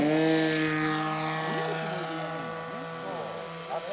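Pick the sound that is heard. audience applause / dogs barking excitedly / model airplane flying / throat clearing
model airplane flying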